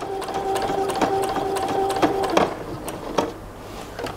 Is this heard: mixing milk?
no